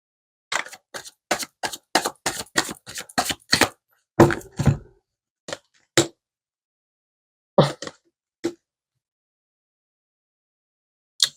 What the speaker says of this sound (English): I'm shuffling. I shuffle until I get that energy to pull.